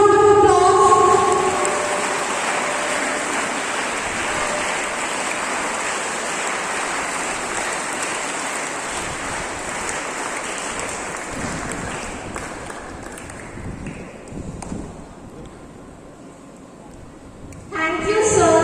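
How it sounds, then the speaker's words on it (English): Loud, dense applause from a large audience at a school Independence Day celebration, a continuous roar of clapping that holds for over ten seconds, gradually thins out, then ends as a voice briefly speaks. "Please give them a huge round of applause."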